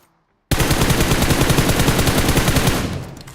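Automatic gunfire in the mobile battle royale game BGMI, a sudden loud burst of rapid, evenly spaced shots that starts after a brief silence, continues for about three seconds, then tails off.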